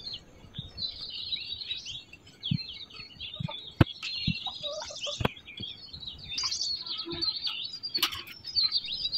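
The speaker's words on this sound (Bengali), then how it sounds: "আমাদের কিছু কবুতর আছে এখানে" Pigeons kept on a small homestead with grafted mango saplings nearby, heard as a busy stream of close chirps and tweets with a few sharp wing-flap bursts and thumps, steady throughout.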